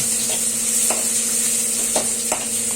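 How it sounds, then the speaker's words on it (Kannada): Halved onions sizzle steadily in hot oil, close and constant, while a spoon scrapes through the pan a few times. "ಆಮೇಲೆ ಒಂದು ಅರ್ಧ ಕಟ್ ಮಾಡ್ಕೊಂಡಿರೋ ಈರುಳ್ಳಿ ಹಾಕ್ಕೊಳ್ಳಿ. ಚೆನ್ನಾಗಿ ನೀಟಾಗಿ ಫ್ರೈ ಮಾಡಿ"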